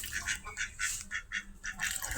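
Ducks on a small farm quack in loud, close, repeated bursts, several harsh nasal calls following one another in an uneven rhythm, with no talking.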